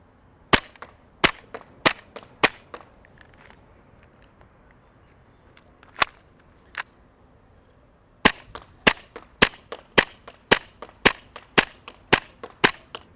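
An ASG B&T USW A1 gas blowback airsoft pistol fired outdoors in crisp sharp cracks, first a loose string of shots, a pause with a couple of single shots, then a fast evenly spaced volley, loud and close.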